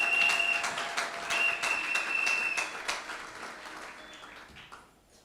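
A church congregation claps in sustained, fairly loud applause that slowly fades away near the end, with no talking over it.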